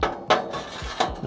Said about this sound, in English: Now set our grates back down